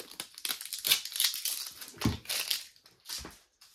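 Silver matte vinyl for a Cricut cutter being unwrapped, giving close, loud crinkling and rustling of plastic packaging in uneven bursts, with a few sharper crunches and no voices.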